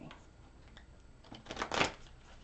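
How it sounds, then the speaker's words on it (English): Tarot cards are riffled in a quick, quiet shuffle that swells to a brief papery burst near the end, with soft card noise leading into it. "One more shuffle."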